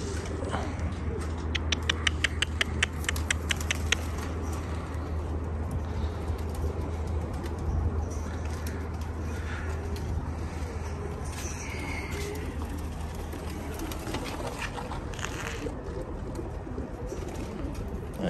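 Pigeons in a rooftop loft, low soft cooing and fluttery rustling over a steady noisy background hum, with faint chirps and scattered patter throughout, all fairly quiet and continuous.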